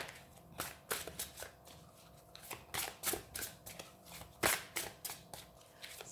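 Tarot cards are shuffled and drawn by hand in a weekly reading: a run of soft, close riffling snaps and flicks in an irregular rhythm, quiet and alone with no talk.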